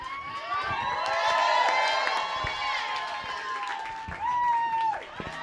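A large crowd at a launch party cheers and shouts loudly and continuously, with scattered clapping and high excited voices swelling and fading over several seconds.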